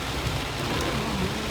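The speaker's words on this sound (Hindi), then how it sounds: "गाइस बारिश काफ़ी तेज़ हो रही है" Heavy rain falls around a car on a forested road toward Mussoorie at night, a dense, constant hiss with a low rumble underneath and no voices.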